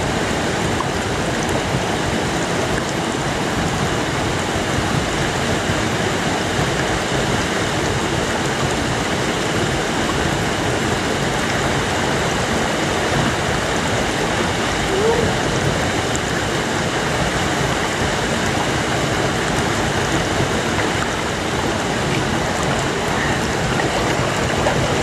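A river runs steadily nearby, broadband rushing water that stays loud and even for the whole stretch, with no talk over it.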